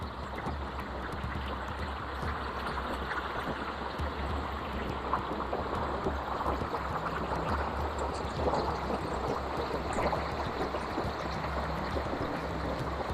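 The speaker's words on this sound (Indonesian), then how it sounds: "ini kita sudah sampai di sungai ya teman-teman ya" A river in a valley near a cave, its water flowing steadily and broadly with a continuous rushing wash that holds an even level throughout, with no voices.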